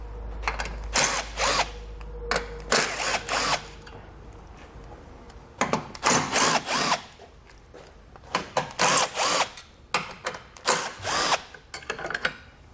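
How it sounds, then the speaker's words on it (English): A power drill backs 7mm screws out of a bumper beam while a Roadmaster Direct-Connect base plate kit is set up on a 2017 Buick, with repeated short whirring bursts that start and stop, close and loud, and no talk. "we're going to have 5 7mm screws that we're going to take out"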